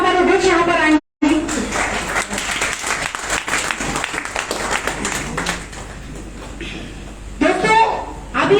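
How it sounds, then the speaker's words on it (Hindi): Audience applause at an IMC car achiever celebration: a dense, steady burst of many hands clapping fills most of the stretch, with a brief dropout early and a voice speaking over it near the end. "मैं चाहूंगी जोर तालियां होंगी और मैडम हमारे बीच यहाँ पर आएंगी"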